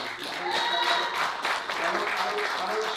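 Audience applause during a political speech by a Shadow Chancellor at a 2019 conference, a steady wash of clapping that holds for about three seconds without a break.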